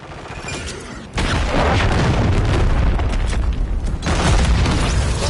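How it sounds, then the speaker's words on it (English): A cruise missile exploding in a shooter video game: after a quieter opening a sudden loud blast hits, followed by a long rumbling roar, with a second heavy surge near the end. "Friendly cruise missile approaching target."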